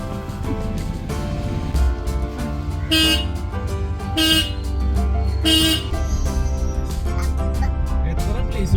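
Short horn blasts sound about three times over a steady engine drone and background music, loud and close, spaced roughly a second apart.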